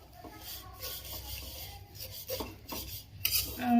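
Vermicelli frying in ghee in a pan over low heat, stirred with a utensil, giving steady scraping and rasping strokes with light metallic clinks, close and moderately loud with no talk.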